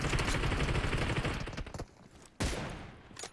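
Enemy gunfire in PUBG Mobile's 8vs8 mode crackles in rapid, dense bursts. A long volley gives way to a brief lull, then another sharp burst of shots opens up.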